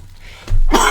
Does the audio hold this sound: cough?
yes